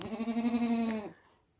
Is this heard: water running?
no